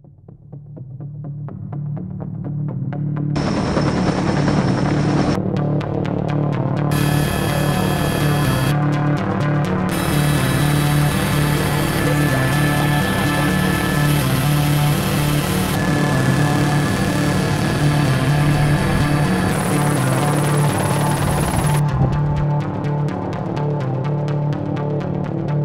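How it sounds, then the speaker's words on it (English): Loud, continuous throbbing drone of a helicopter flying into mountains for the World Heli Challenge freestyle competition, steady rotor pulse and engine whine filling the whole stretch, no voices. "We fly into these mountains by helicopter to compete for the ultimate bragging rights."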